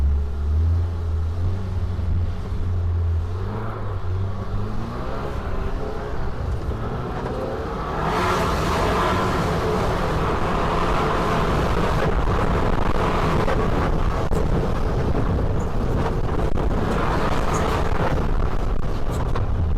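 Segway Super Villain off-road vehicle driving and cornering through rough terrain, a steady loud engine drone with wind buffeting and rumbling, the pitch shifting as it accelerates.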